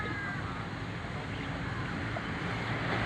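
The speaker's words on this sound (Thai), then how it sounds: "ก็เป็นเรือหางยาวแบบนี้" Constant loud engine roar of a longtail boat at Rawai pier mixed with wind and rushing water, steady throughout with no clear speech.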